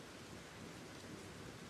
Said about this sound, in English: Only the rain and the crackling of the warm fire in my hearth.